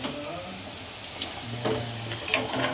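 Potato pieces fry in a pan and are stirred slowly, giving a steady close sizzle with a few soft scraping knocks near the end.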